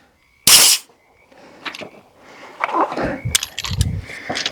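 A BINTAC T9 semi-auto 9mm airgun firing FX skirted pellets gives one sharp, loud crack near the start, followed by softer clicks, handling rattles and further short pops.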